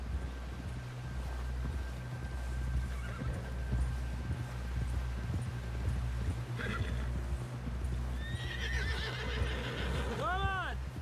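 Horse in the Red Dead Redemption 2 video game clip-clops along at a steady rhythm, then whinnies loudly near the end, with ambient game sound underneath.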